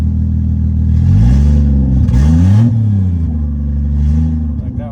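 Turbocharged Lexus SC300 engine revs up and down, rising and falling in pitch through a few swells, loud and close with some mechanical clatter.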